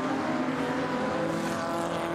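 Racing cars, including a Jaguar D-type and a Lister, roar loudly and continuously at close range through a chicane at Goodwood, a dense, high-revving whine with no pauses over a couple of seconds.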